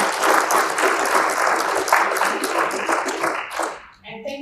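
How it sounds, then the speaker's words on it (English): Steady applause from an event audience thanks the panelists at the end of a panel discussion, dense and sustained for several seconds before tapering off as a voice begins to speak. "Let's give our panelists one more hand."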